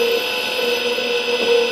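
A Santinelli Nidek LEX lens drill runs steadily, drilling a hole and boring it out to a larger size, a continuous high mechanical whine with a steady hum that stays even throughout.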